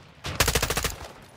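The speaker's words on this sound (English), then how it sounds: "I'm still being shot at by some..." A short rapid burst of automatic gunfire in the shooter game Ghost Recon, about eight quick rounds in under a second, fairly close and loud, with no talking during the burst.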